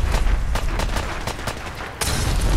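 Steady, rhythmic bursts of gunfire in Fallout 4, evenly spaced shots rattling off in a sustained volley that swells louder near the end, with no talking over it.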